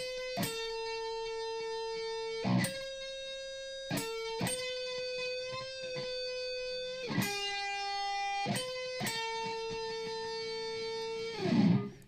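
Electric guitar playing a riff with a clean tone, a repeated single-note line of sustained high notes separated by sharp picked attacks and slides, solo and close without talk.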